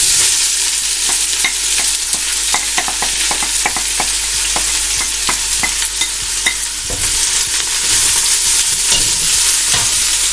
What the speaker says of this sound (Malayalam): നമുക്ക് ഇതിലേക്ക് അരിഞ്ഞു വെച്ചിരുന്ന 3 സവാള ഇട്ട് കൊടുക്കാം.